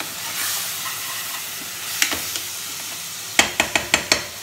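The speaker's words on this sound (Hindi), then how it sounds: "अब हम इसको अच्छे से भून लेंगे" Garlic paste and masala frying in a pan on low heat for egg curry, a soft steady sizzle with a few sharp clicks of a spoon stirring and scraping near the end.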